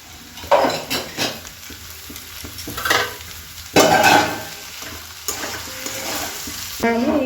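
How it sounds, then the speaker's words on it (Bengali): Boiled potatoes are mashed in a pan for an aloo paratha filling. Repeated squishy scrapes and dull metal knocks from a utensil come in uneven strokes, close and fairly loud. "মা এখন আলুটাকে ভালো করে একটু থেঁতো করে দেবে মানে চটকে দেবে"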